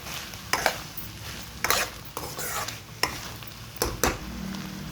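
Rice being stirred in a pot for biryani, several scraping, clattering strokes of a spoon against the pot over a soft low simmer, with no one talking.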